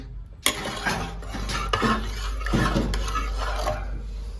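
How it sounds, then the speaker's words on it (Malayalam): A pot of kabsa mixture with water being stirred, the utensil scraping and clinking against the metal pan in steady, close strokes with no talking. "ജസ്റ്റ് ഒന്ന് മിക്സ് ചെയ്ത് കൊടുക്കണേ"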